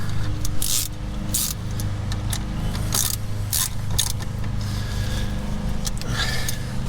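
A hand ratchet snugs a brake caliper bracket bolt on a Mercury Grand Marquis. Repeated short bursts of crisp clicking sit close over a steady low hum.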